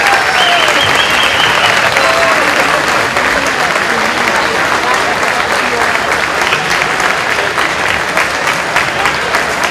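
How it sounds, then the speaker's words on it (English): Sustained, loud applause from a large crowd, steady clapping filling the whole stretch, with faint voices and cheers mixed in. "let's give give a big round of applause for Senator Cruz."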